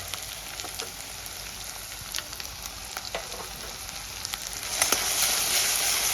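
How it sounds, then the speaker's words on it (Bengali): Ginger, garlic and green chili paste sautéing with browned onions in a pan, a steady close sizzle with scattered crackles and scraping stirs, growing a little louder near the end, with no talking. "আদা রসুন কাঁচা লঙ্কা বাটাটা ভালো করে পেঁয়াজের সঙ্গে কষাবো"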